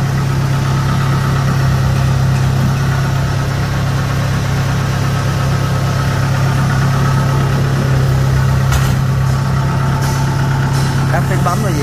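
A Kubota combine harvester engine runs at a steady, loud idle with a constant low hum and mechanical vibration throughout, close to the microphone.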